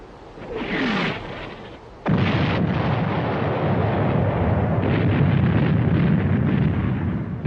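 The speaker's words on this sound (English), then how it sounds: "The artillery bombardment on February the 21st was the heaviest in the history of warfare." A heavy World War I artillery bombardment on French frontline trenches on 21 February. A brief rising burst is followed by a sudden, loud, continuous roar of massed shelling that rumbles on unbroken, with no voices.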